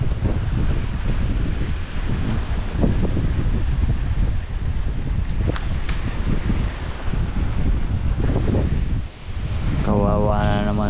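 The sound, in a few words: strong wind blowing, possible typhoon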